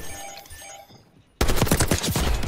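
Gunfire in the Call of Duty video game Black Ops 6 breaks out after a quieter stretch, with a loud, dense burst of rapid automatic shots filling the last second of the clip.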